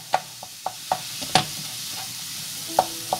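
Minced meat fries in a pan for Turkish-style pizzas as a wooden spoon repeatedly knocks and scrapes it apart, making a string of sharp taps over a low sizzle, with no voices.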